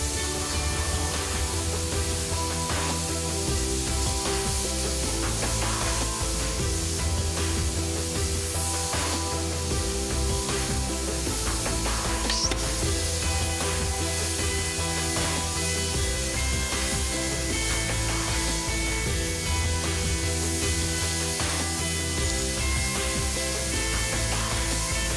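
Heat induction anchor stud welding runs as a steady, loud broadband hiss and hum that continues evenly throughout with no speech.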